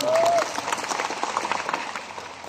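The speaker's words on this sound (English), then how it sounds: "Give yourself a round of applause as well." A morning audience at a market talk in the Philippines applauds, a brief burst of clapping that fades out over a couple of seconds behind a short vocal note at the start.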